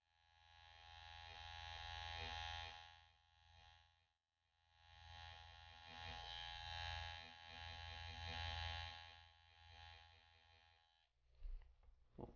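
A small tattoo liner machine buzzes steadily while doing soft shading, a continuous close electric drone that swells and dips, briefly cutting out near the start before running on again.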